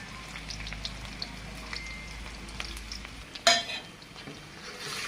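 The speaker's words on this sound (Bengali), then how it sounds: "পেঁয়াজ কুচির সাথে আদা রসুন ভেজে নিচ্ছে।" Chopped onion, ginger and garlic fry in a pan for vegetable khichuri, a steady soft sizzle with faint stirring scrapes and a sharper clink of utensil on the pan partway through, no voices.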